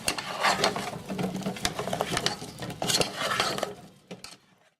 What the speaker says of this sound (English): we want to give these a stir so that we coat them with the Earth Balance